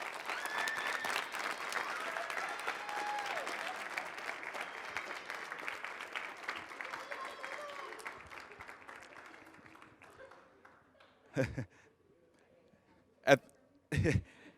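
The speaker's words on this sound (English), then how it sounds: "how about a big round of applause for Kat?" An audience at a school softball signing ceremony gives a sustained round of applause that gradually fades out, followed by a few isolated loud hand claps or knocks near the end.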